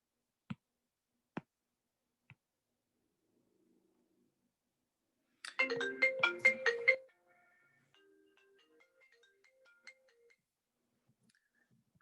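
A phone rings from an incoming spam call, a short burst of melodic, rapidly pulsing tones lasting under two seconds in an otherwise quiet room, with a few faint clicks around it.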